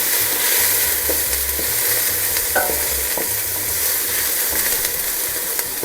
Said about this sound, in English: So I'm just softening up the onions.